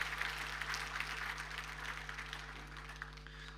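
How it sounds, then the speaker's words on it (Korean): A church congregation claps in encouragement during a Sunday service, a fairly faint but steady round of applause that eases slightly toward the end. "우리 박수로 우리 격려드리도록 하겠습니다."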